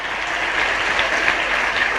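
A large audience at a Hindi poetry recitation during a religious discourse claps steadily for a poem's lines, a dense, even wash of applause with no voices over it.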